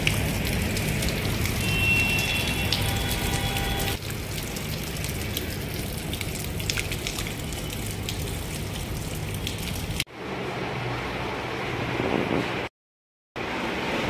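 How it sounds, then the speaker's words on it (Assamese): Heavy rain pours steadily on a roof in Guwahati, a continuous hiss of drops that stays loud and even, then shifts in tone as the listener moves indoors, with a brief dropout near the end and no talking. "বৰষুণটো এতিয়াও দিয়ে আছে"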